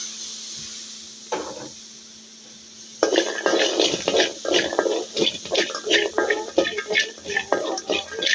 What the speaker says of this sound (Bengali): এখন আমি পেঁয়াজ আর রসুনটা ভেজে নেব।